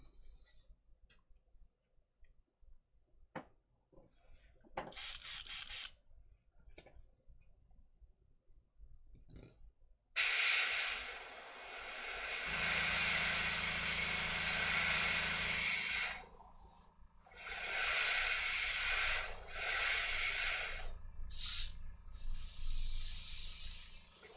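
An airbrush sprays a heavy coat of metallic paint onto a miniature, a steady close hiss lasting several seconds after softer intermittent bursts and clicks, with brief pauses in the spray.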